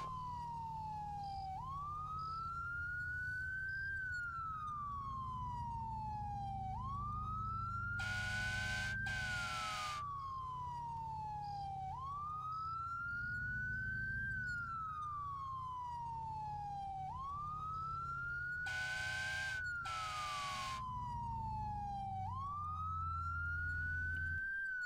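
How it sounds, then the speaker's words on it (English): A police siren in an Arma 3 roleplay game wails steadily, rising and falling in a slow repeating cycle with brief electronic yelp bursts, heard continuously over a low vehicle rumble with no talking. "Those sirens are very loud."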